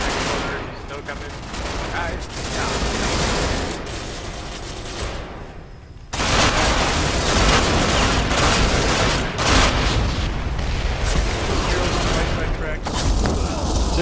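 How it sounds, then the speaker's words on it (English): Dense, sustained gunfire in Ghost Recon Online, rapid bursts and volleys overlapping continuously, with a brief lull before the shooting intensifies again. "This is some intense shooting."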